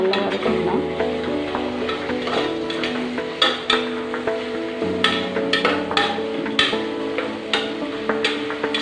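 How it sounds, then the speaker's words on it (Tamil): Two tomatoes sauté in a pan for homestyle mutton biryani, a moderate sizzle under repeated scraping and knocking of a spatula stirring close by. "அதையும் நல்லா வதக்கிடலாம்."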